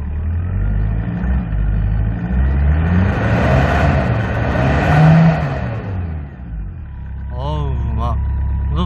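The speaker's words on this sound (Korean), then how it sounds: "악셀 한번 밟아볼게요." A 2005 Kia Bongo3 fifteen-seat minibus engine, cold-started, revs up loudly and steadily from idle, holds high, then drops back to a low idle, with a brief whining sound near the end.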